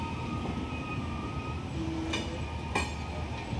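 A train rolls in at a rail station after dark on the Amritsar–Bikaner route, giving a steady, rumbling low drone with faint squeals and a couple of sharp metallic clanks from the wheels and cars.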